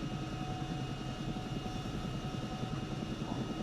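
Aircraft engine in the video game ArmA 3 drones steadily with a throbbing, rotor-like pulse as the throttle is brought up, a continuous low mechanical rumble with no voices.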